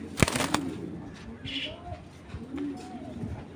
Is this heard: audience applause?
no